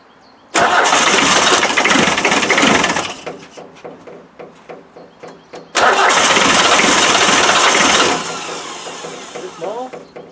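Land Rover Defender 2.5 naturally aspirated diesel with a shaking fault, cranked loudly in two long bursts separated by a lull of sputtering misfires, then catching and running rough toward the end; voices talk over it.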